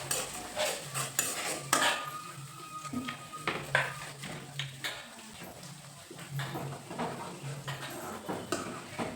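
Metal spoon scraping and clinking in a pan as ingredients are stirred and roasted in a home kitchen, a steady run of irregular close scrapes and taps at moderate volume, with no talk.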